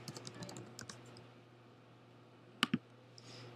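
Typing on a computer keyboard while searching a cemetery website, with a few soft scattered keystrokes near the start and two sharp louder key clicks near the end, against a faint steady hum.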